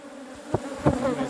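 Honey bees buzz around an open beehive during a hive inspection, with a dense, close, steady drone. Louder passes swell briefly as individual bees fly near.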